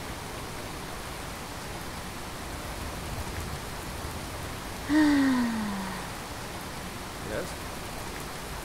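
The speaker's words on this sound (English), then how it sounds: "Try to get out of this rain, okay?" Steady rain falls in the video game Skyrim, a constant soft patter filling the scene while a single short spoken word cuts through it midway.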